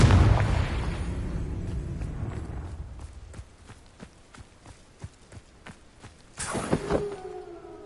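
A Confringo blast spell fires in a Harry Potter video game, opening with a loud, rumbling explosion that decays over a few seconds, followed by light, rhythmic tapping and a bright whooshing flare near the end.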